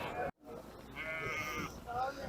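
Sheep bleating at a livestock market, a short, close bleat rising over the murmur of the crowd after a brief gap, with people talking nearby.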